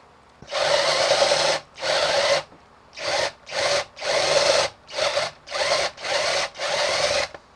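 Drill bit boring out wood through a pilot hole in a scratch-built figure-8 electric guitar body, a close, loud whine in seven bursts of one to two seconds each, separated by brief pauses.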